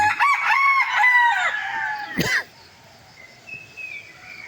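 Roosters crow in the morning, with a loud, near crow of layered, drawn-out calls for about two seconds, ending in a sharp rising burst. Fainter, more distant crowing follows against a quiet rural background.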